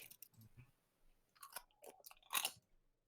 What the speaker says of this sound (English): Yeah, I'm eating chips.